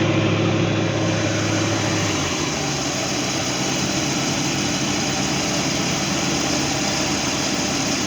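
A Mercruiser 5.7L inboard engine in a Stingray boat runs steadily at idle after a thermostat housing replacement, a constant close rumble with no talk.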